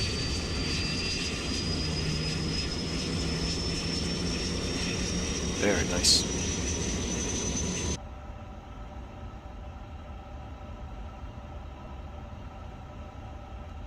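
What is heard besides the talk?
Airbus A350 engines spooling up, Microsoft Flight Simulator video game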